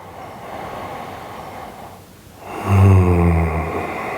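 A deep, throaty Ujjayi exhale during a gentle yoga session: soft breathy noise, a brief lull, then a loud, close, resonant rasping breath for about a second and a half.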